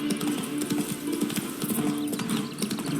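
Geralt's horse Roach clip-clops along in The Witcher 3, hooves beating a quick, steady rhythm close by under ambient game sound, with no talk.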